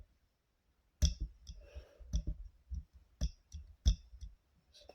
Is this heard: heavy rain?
no